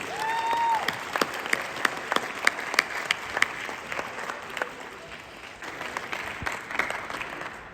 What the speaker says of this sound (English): If you have enjoyed it, give them a massive, massive round of applause